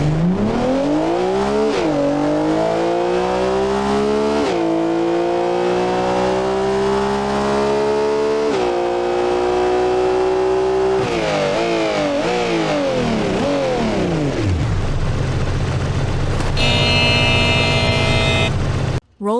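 A Porsche supercar engine revs hard and close, climbing through repeated surges with brief dips between gear-like steps, then dropping to a rough idle and a final burst near the end.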